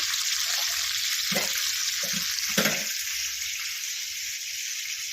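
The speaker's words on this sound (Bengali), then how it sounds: "কাঁকড়া এই যে দাঁড়গুলো ভাজবো এগুলো আগে ভাজা হোক" Crab claws fry in hot oil with a steady, bright sizzle throughout, broken by a few soft clatters of handling.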